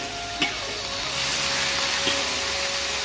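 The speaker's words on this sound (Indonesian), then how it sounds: "Ini kita tumis sampai lembut ya, bunga pepaya, buah pepaya, dan juga jantung pisangnya." Papaya flowers, papaya and banana heart stir-frying in a pan for an Indonesian vegetable dish, giving a steady close sizzle with a couple of brief clinks of the utensil, and no talking.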